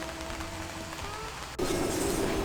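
Rain falls outdoors on a farm, a steady wash of patter that grows noticeably louder and brighter partway through, with no voices.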